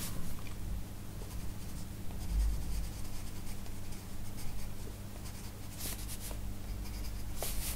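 Colored pencils scratching across paper in a colouring book, a steady soft scraping texture with brief harder strokes, continuous and close with no talking.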